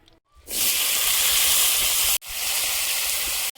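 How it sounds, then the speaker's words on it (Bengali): Broad beans hit a hot pan with a sudden loud hiss of frying that runs steadily, breaks off briefly, then resumes just as strongly; no talking. "সিমগুলো ভেজে নেব"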